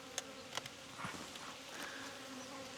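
Honeybees buzz around a hive during an apiary inspection, a faint steady hum with a few sharper close passes and taps near the start.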